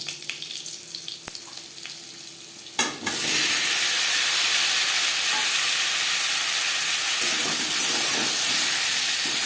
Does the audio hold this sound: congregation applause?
no